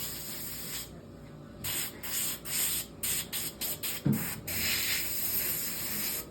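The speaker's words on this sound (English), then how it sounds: "I'm putting on a light thin coat, covering all this." Paint is sprayed onto a deer taxidermy mount in short, close hissing bursts of varying length, with brief pauses between passes and no talking.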